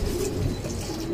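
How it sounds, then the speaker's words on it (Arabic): Pigeons in a loft give soft, low cooing, a brief murmuring burst heard close by with no talk. "تلاقي الحمام كله قلق معاك."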